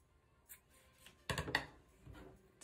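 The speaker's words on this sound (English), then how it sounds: "I'm going to cut my yarn" Scissors cutting crochet yarn, a single quiet, brief snip with faint handling rustles around it.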